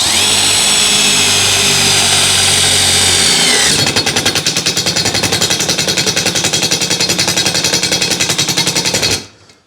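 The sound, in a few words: Milwaukee M12 Fuel driver driving a screw on self-tap setting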